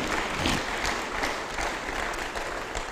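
Church congregation applauding the Lord during a sermon, a steady wash of clapping from many hands with a few swelling peaks, loud and continuous with no talk.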